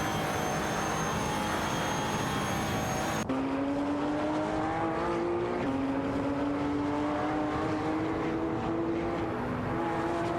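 Race cars roar past in an AI-driven racing video game featuring a Porsche 911 (991) GT2 RS, engines whining with rising pitch as they upshift, a steady loud drone with a sharp cut partway through.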